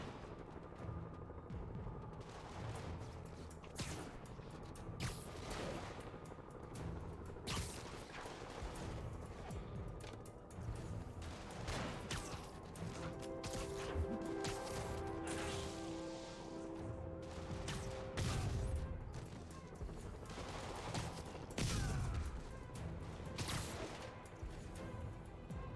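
Gunfire from snipers pinning down police officers at Grand Central in the video game Marvel's Spider-Man, sharp cracks and impacts scattered through a dense, busy mix of game action and music, with a voice briefly heard.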